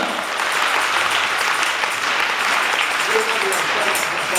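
A congregation at a night vigil applauds and cheers loudly and continuously, a dense wash of clapping and raised voices that holds steady throughout.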